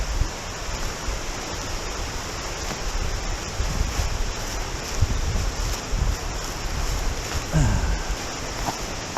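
A waterfall on Dismal Creek in the Ozark National Forest rushes as a steady broadband roar, moderately loud and continuous, with faint handling noise and no talking.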